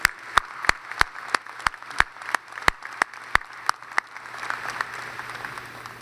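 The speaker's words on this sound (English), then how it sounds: "I think we can do another round of applause for them." Scattered claps from a graduating doctoral class's audience at a Clemson University summer hooding ceremony, sharp separate hand claps at a steady pace, then fading into a soft room murmur near the end.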